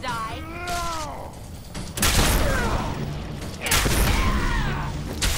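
Artifact gun firing at mutants in Fallout 4, heavy booming shots with mechanical clanks and whooshing effects, a few blasts spaced apart amid game sounds.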